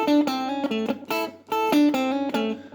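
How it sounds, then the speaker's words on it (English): Rock and roll solo guitar riff played as a string of bright, ringing picked notes with quick rhythmic accents and short gaps, clear and alone with no voices. "there's a solo guitar riffs in blue"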